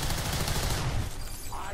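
Gunfire in XCOM 2, a dense burst of loud rapid shots that fills the first part before fading into a quieter tail.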